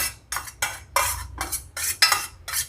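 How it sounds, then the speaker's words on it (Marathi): Eggs for a bread omelette are beaten in a bowl, with rapid, rhythmic clinking strokes of a utensil against the sides. There are about nine close, distinct beats. "आपण हे अंडे चांगले व्यवस्थित मिक्स करून घेऊ आधी।"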